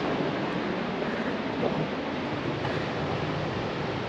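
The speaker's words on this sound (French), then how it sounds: "Beaucoup de vent. Regarde la mer," Sea waves and strong wind on the coast: a steady, dense roar of surf and gusting wind fills the whole stretch, loud and unbroken, with no voices.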